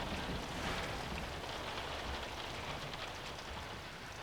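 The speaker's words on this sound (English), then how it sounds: "At least until the rain lets up." Steady rain falls outside, a dense, even hiss of drops on surfaces that holds at moderate loudness throughout, with no voices and no distinct thunder.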